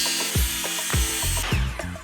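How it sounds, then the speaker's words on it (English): A hand saw trims about an eighth of an inch of wood off a cabinet stile, with loud, close, rhythmic strokes repeating about every half second. "So you need a saw that can cut straight, but I'm just going to trim off about 1/8 of an inch."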